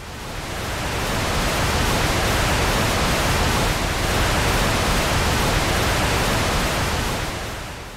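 Steady, dense broadband hiss like white or pink noise from an hour-long scalar energy recording, unchanging and even throughout with no voices or other sounds.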